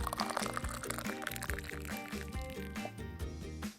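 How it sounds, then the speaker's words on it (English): Hot kadha herbal drink is strained into cups, making a steady close pouring and trickling of liquid with some light clinks throughout. "Time to strain the kadha in the cups."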